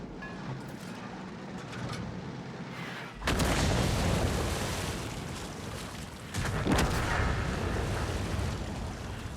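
Object 261 self-propelled artillery firing in World of Tanks: two heavy booms about three seconds apart, each with a long rumbling tail over a steady engine drone.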